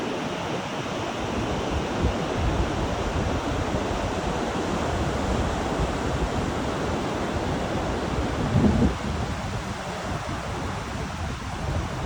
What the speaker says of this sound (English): So take a minute and listen to the ocean.